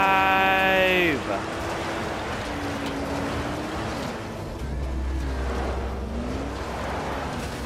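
A car drives in the Dying Light The Following video game, a steady broad engine-and-road rush that runs the whole time after a short tonal game sound at the start, with a voice talking over it.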